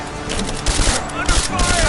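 Dense rapid gunfire rattles continuously through a Rise of the Tomb Raider firefight, loud and close, a steady fusillade of overlapping shots with a voice shouting briefly underneath.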